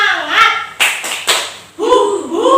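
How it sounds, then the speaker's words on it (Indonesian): A classroom of children doing a rhythmic 'tepuk semangat' clap, with a few sharp, evenly spaced claps mixed with young voices chanting in between. "Ibu punya tepuk semangat nih."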